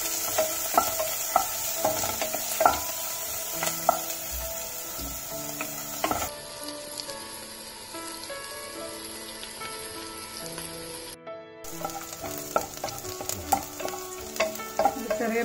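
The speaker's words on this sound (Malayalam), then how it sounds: "നന്നായി ഫ്രൈ ചെയ്ത് കുറച്ചു നേരം ഫ്രൈ ചെയ്യുക." Chopped onion fries in a pan for vegetable fried rice, a steady close sizzle with frequent stirring scrapes and clacks of a spatula, with one brief dropout.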